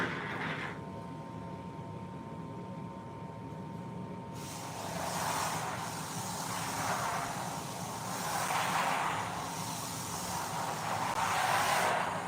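A K989 micro RC car drifts with a steady motor whine, and its tires squeal in rising, repeated swells that grow louder toward the end.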